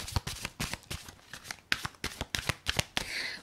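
Tarot cards being shuffled and drawn, a rapid series of crisp riffling flicks and slaps in uneven bursts, close and fairly quiet, ending in a brief soft sliding rustle.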